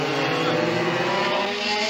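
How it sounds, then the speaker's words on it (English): Go-kart engines drone loudly and continuously as they race around a track, a dense, steady buzzing roar with no pauses. "Their engines really going well. They pull very strong."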